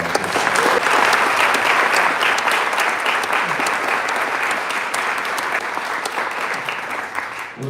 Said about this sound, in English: let's give both of the candidates a big round of applause